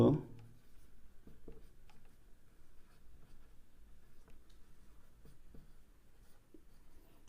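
Pen or chalk scratching on a board during a maths geometry lesson, soft repeated strokes in short bursts, close and quiet, heard without talk.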